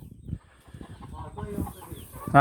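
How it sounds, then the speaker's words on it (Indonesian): Chickens cluck in low, scattered bursts across the clip, with a faint hum in the background and a louder knock at the very end. "Kita lihat bagaimana Mama kami ini ingin mengasih makan ayam-ayamnya. Ya, ayam."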